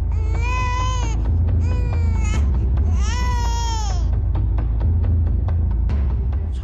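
An infant cries loudly in close bursts of wailing, three long cries with pauses, over a steady low rumble of background noise in an indoor drama scene.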